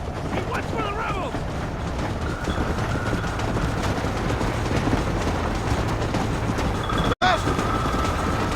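A steam-era train rolls along in Red Dead Redemption, a steady rumbling churn of wheels and engine running throughout with a brief whistle-like tone near the end, and voices calling out briefly at the start.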